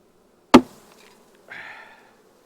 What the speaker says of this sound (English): Now we get these bees in here.